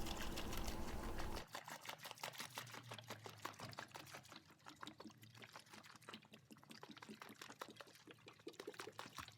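Warm water pours from a 10-liter jerry can into a bucket for washing a car. A loud gush comes first, then a long uneven splashing trickle, close by and with no talk.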